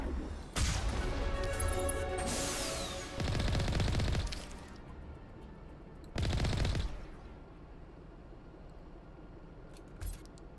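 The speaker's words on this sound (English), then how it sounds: "Shoot them again." Sci-fi weapon fire in Mass Effect, with a few separate loud bursts of crackling shots, each lasting a second or two, separated by quieter stretches and a small final pop.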